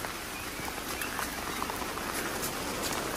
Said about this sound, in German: Oh mein Gott, der Regen ist voll krass gerade.